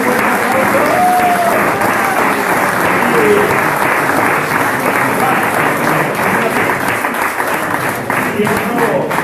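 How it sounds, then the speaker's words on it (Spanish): Loud, sustained applause from an audience at a homebrewing competition award ceremony, steady clapping filling the room throughout with some crowd noise mixed in. "Así que un buen aplauso."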